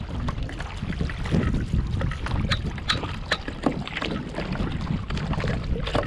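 Kayak paddling at Mallows Bay: repeated, fairly regular paddle strokes and drips on water, close and moderately loud, with wind buffeting the microphone.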